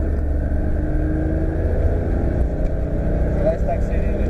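A Porsche 997 GT3 accelerates hard on a racetrack during a drift-and-grip driving course, its engine a steady, loud drone heard from inside the car beneath an instructor's continuous speech.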